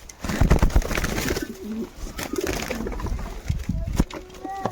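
Low cooing from a dove at a pigeon loft among kept pigeons, soft and close, mixed with rustling and background noise, with a voice talking over it at times.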